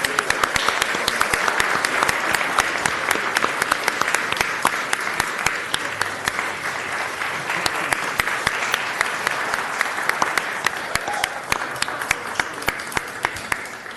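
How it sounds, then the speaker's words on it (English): Sustained audience applause fills a city council meeting chamber, dense steady clapping from many people that carries on evenly throughout with a few sharper individual claps standing out. "I think you deserve a special applause."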